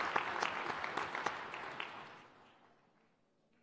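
Audience clapping at a Regional Plan Association event: a brief burst of many hands applauding, fairly faint and distant, that tapers off within about three seconds.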